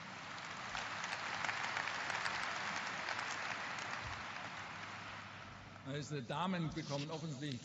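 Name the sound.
audience applause at a shareholders' meeting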